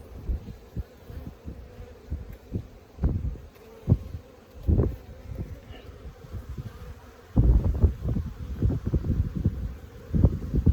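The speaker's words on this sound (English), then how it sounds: "if we're hearing piping, that means there's probably still a viable queen in there" Queen bee piping heard close up inside a beehive during a spring hive check, with a steady insect hum, thumping wind noise on the microphone and louder bursts toward the end.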